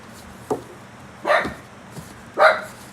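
A dog barks about three times in a quiet indoor room, short sharp yaps spaced about a second apart, close and fairly loud.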